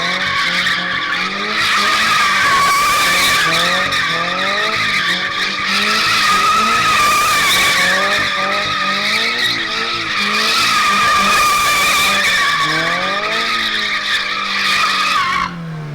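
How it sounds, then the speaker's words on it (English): Car drifting in repeated donuts around a barrel, tires skidding and squealing in long loud sweeps over a revving engine, rising and falling with each loop; no talk. "So I think the last thing you should do is try to do a donut around a barrel."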